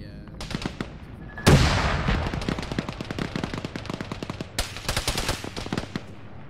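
A tank in Arma (ShackTac) fires on a squad: loud, rapid machine-gun bursts rattle steadily throughout, with two heavier blasts standing out near the start and just past the middle.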